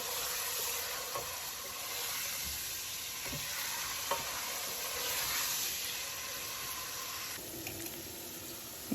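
Whole spices including bay leaf, cinnamon, cloves and cardamom frying with onion in hot oil for chicken curry, a steady close sizzle with occasional scraping stirs and light clinks and no speech.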